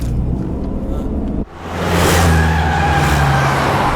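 A car starts off with a loud engine roar and tire noise; after a brief dip the engine surges and holds a high, steady drone as it drives away, with no talking.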